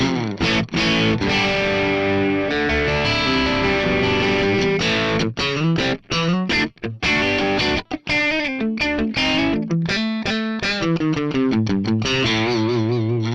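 Loud, distorted electric guitar plays chords and riffs with short pauses through a sampled amp on a Mooer GE-300 Lite, with thick amp saturation and a chorus-like shimmer throughout.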